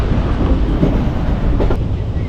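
A train running on the tracks near Muthalamada on the way to Palani gives a loud, steady rolling rumble with wind buffeting, heard up close from on board.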